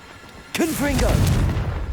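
A Confringo spell explosion in Hogwarts Legacy bursts suddenly with a sharp boom and a rumbling tail, mixed with swooping magical whooshes and loud spell effects.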